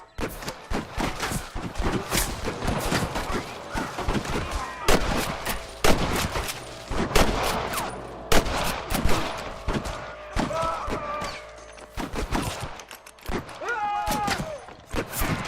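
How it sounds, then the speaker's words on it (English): Gunfire in Red Dead Redemption as a sheriff's deputies fight outlaws: repeated sharp shots and rapid bursts crack out irregularly in a busy firefight, with occasional game voices amid the shooting. "I can hear more gunshots."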